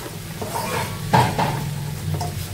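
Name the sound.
vegetables (stem, pointed gourd, potato) added to pan with spices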